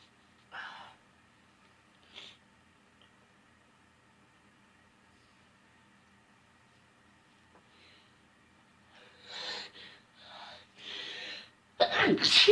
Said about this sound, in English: Powerful sneezes tonight.